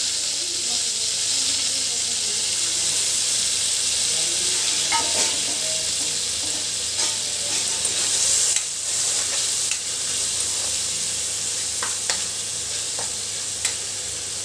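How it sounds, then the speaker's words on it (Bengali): Thin strips of potato and flat beans fry in mustard oil with nigella seeds, making a continuous bright hiss and sizzle close by, with occasional clicks and scrapes of stirring throughout. "এবার আমি সর্ষের তেল দিয়ে কালো জিরা ফোড়ন দিয়ে আর সরু সরু করে আলু আর শিম রেখেছিলাম, এইটাকে একটু হালকা করে ভেজে"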